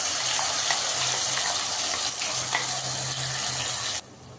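Ground spice paste hitting a hot pan with bay leaf, a loud continuous sizzle and hiss with faint stirring clinks, cutting off abruptly near the end.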